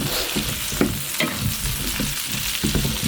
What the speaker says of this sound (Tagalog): Igigisa mga pair of minutes.